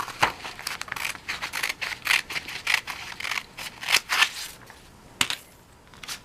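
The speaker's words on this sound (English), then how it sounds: "Cut out the 1/2 inch by 3-inch strip with scissors." Scissors snip repeatedly through paper, cutting a half-inch by three-inch strip, a quick series of crisp close cuts with short pauses between strokes.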